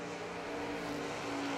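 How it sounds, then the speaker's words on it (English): Chevrolet Camaro drag racing car at a bracket nationals drag strip, a steady loud engine roar holding through the short burst, heard from trackside with no talk. "Here comes the Camaro."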